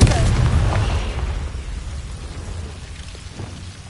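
Confringo fire spell blasting in Hogwarts Legacy on PS5, a heavy low boom with rumbling, crackling debris that starts loud and slowly decays into a fading rumble.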